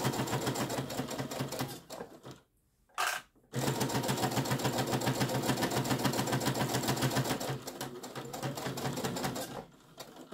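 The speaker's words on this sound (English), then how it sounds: "We're just going to sew all the way around." A sewing machine stitches all the way around fabric coasters in a steady, close, rapid mechanical hum, pausing briefly for a moment before running on continuously to the end.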